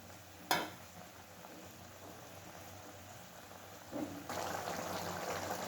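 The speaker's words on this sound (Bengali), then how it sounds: "দেখুন তরকারিটা খুব সুন্দরভাবে ফুটতে শুরু করেছে।" Doi paneer curry simmering in a pan, a faint steady bubbling hiss that swells louder near the end after a single sharp clink at the start, with no talking.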